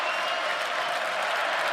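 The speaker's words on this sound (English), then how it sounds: "You can hear the Auburn crowd." Auburn fans roar and cheer continuously through an overtime college football game against Vanderbilt, a dense, loud stadium crowd sound filling the whole moment with no break.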